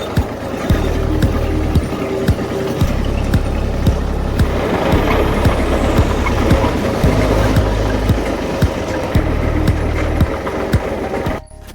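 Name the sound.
tractor driving to the field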